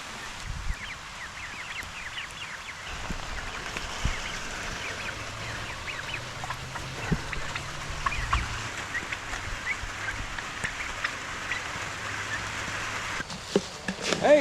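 A backyard flock of chickens clucking and squawking in a steady, busy chorus at mid-distance, with a low rumble of rain and scattered soft knocks beneath, no talking.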